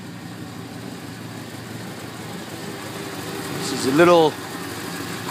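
The engine of a 1967 Pontiac Parisienne 2+2 idles cold with a low, steady hum and a brief whistling rise near the end. Someone speaks briefly over it.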